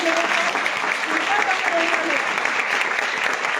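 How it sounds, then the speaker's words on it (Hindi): Dense, steady applause from a seminar audience fills the whole stretch, loud and continuous, with faint voices underneath. "बच्चे के लिए ताली बजाओ यार।"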